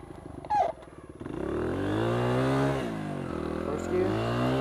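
A Honda XR100 dirt bike climbing a steep woods track, its engine droning loud and close with a strained, rising rev and a sharp throttle blip near the start.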